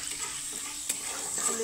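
Raw chickpeas fry in oil in a pan and are stirred. A brief, close, steady sizzle comes with soft scraping and one sharp tap.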